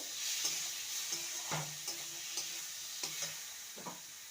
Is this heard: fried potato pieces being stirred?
yes